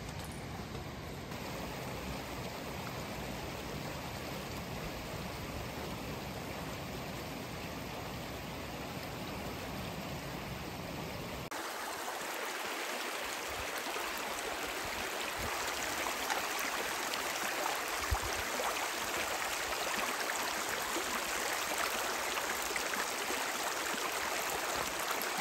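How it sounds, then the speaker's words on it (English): Waterfall and flowing stream along a trail at the Bay of Fundy, a steady broadband rush of water that grows fuller and louder partway through, with no talking. "our first waterfall."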